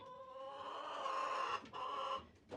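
Chickens cluck and make drawn-out, warbling calls close by, with a few short pauses between sustained vocalizations.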